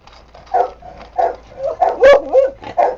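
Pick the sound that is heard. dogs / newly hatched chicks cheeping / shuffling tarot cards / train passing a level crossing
dogs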